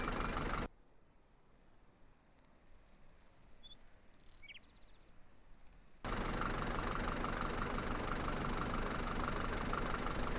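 A tractor engine idling in the farming video game Farmer's Dynasty, a steady mid-pitched rumble that drops quiet for several seconds, then returns louder and constant.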